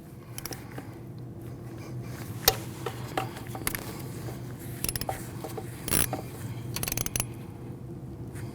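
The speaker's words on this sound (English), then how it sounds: "your manifold bolts get torqued down to 108 inch-pounds" Torque wrench ratcheting on the intake manifold bolts of a 2014-2023 Jeep Cherokee, heard as a series of sharp mechanical clicks and short ratchet bursts over a low steady background hum, close by and moderately loud.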